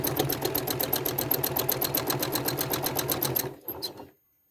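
A sewing machine runs fast and steady while stitching a quilt block along a seam line, its rapid even needle rhythm close and clear, then it slows, stops briefly, gives a short final burst and falls silent.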